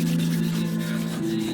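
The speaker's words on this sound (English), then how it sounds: "what grit are you using to take out those scratches?" Wet sanding of scratched car paint with 2000 grit sandpaper, a steady close rasping rub with a brief shift in pitch near the end, no talking.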